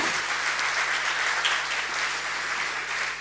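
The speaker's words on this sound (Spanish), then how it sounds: "Dele un fuerte aplauso a Jesús." Church congregation applauding during a Christmas sermon, a steady, full wash of clapping that fills the whole stretch without a break, fairly close and even in loudness, with no voices rising above it.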